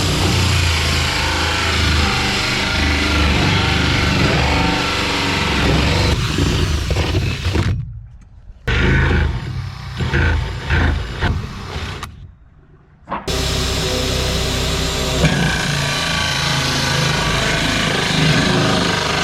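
A power drill bores holes into the shell of a fiberglass swimming pool, loud steady whirring runs that stop twice for short silent gaps before resuming.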